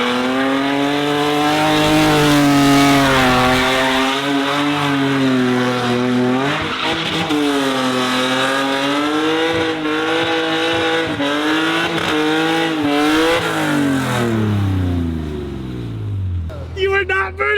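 A diesel truck swings a full 360 donut, its engine droning steadily and rising and falling in pitch as the tires squeal continuously, loud and close, with a brief rougher burst near the end.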